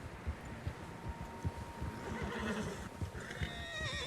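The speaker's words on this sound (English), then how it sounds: "Horses, quite a few of them." Several horses in Red Dead Redemption 2 whinny, with a long, wavering neigh rising near the end over a steady patter of hooves clip-clopping on the ground, fairly close and without any talking.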